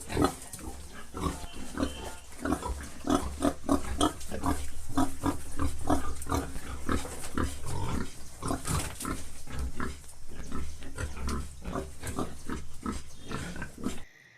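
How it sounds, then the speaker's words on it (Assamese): Pigs grunt continuously in rapid, overlapping snorts on a pig farm in Assam, close and fairly loud, with occasional squeals among them; no one speaks. "আৰু ইয়াত আছে গাহৰি এজনী"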